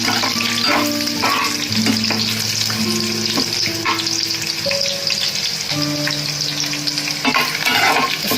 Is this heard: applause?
no